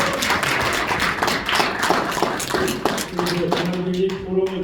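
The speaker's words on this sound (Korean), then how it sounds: "큰 박수 부탁드립니다" Applause from the audience at a Gangnam economic forum event, a dense spread of clapping that fills most of the stretch, giving way to sustained tones near the end.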